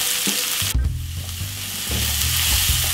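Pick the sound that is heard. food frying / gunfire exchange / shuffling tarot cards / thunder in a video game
food frying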